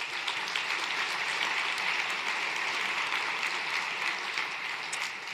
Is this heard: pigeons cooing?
no